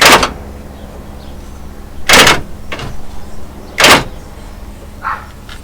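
Three sharp, loud actuator clunks spaced a couple of seconds apart, with a fainter click between and a soft one at the end, as a Mitsubishi Montero's power door locks unlock.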